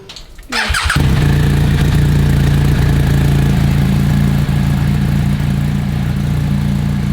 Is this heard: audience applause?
no